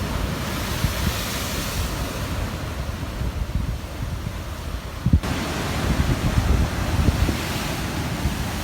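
Ocean waves wash in at Sutro Baths as a loud, continuous surf roar with gusts of wind buffeting the microphone, and no one speaks.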